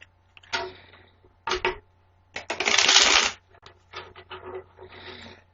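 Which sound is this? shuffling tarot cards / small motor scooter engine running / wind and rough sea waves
shuffling tarot cards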